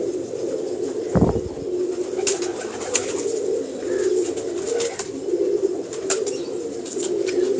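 Breeding pigeons, including a sharp-feathered breeder female, coo in low repeated phrases close by, with faint chirps and a brief burst of wing flapping early on.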